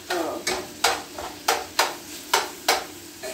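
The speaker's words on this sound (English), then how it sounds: "I got to stir this food that's cooking" Food cooking in a pan stirred with a utensil, about seven regular scraping strokes roughly every half second, loud and close over a soft background sizzle, no voices.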